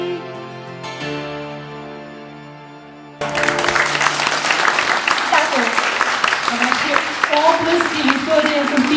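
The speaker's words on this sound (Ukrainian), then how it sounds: "Аплодуємо, аплодуємо ще, ще, ще гучніше" At a regional Ukrainian patriotic song festival, the last held chord of a song fades, then loud, sustained audience applause breaks out abruptly, with a voice speaking over the clapping.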